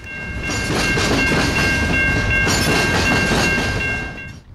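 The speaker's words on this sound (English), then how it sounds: "This train had several interesting cars, including 3 Chicago Northwestern PS2 2-bay covered hoppers." Freight train with three Chicago Northwestern PS2 two-bay covered hoppers rolling past close by, a steady loud rumble with wheel clatter and a high squealing ring, fading out at the end.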